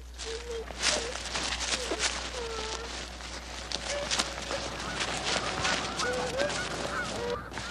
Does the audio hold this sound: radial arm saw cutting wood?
no